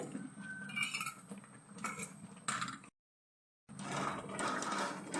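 Coconut mesub mixture is stirred steadily in a pan, making scraping and clinking metal sounds close by, cut by a short stretch of total silence before the stirring resumes.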